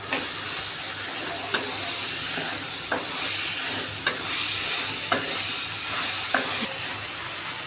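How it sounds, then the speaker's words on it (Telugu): Cauliflower being stirred into masala in a frying pan, a spatula scraping at a steady rhythm every second or so over a continuous close sizzle, with no voices. "మనం జల్లి పెట్టుకున్న ఫ్లవర్ బాగా మిక్స్ చేసుకున్నాం"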